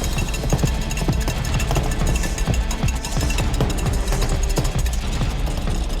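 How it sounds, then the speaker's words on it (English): A hand whisk beats very fast in a bowl during an outdoor barbecue cooking-competition challenge. A dense, steady metallic rattle runs continuously and close throughout, with no speech. "All I can hear is Jonathan's whisk going 10 to the dozen."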